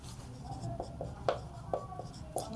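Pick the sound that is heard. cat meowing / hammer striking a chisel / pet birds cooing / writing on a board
writing on a board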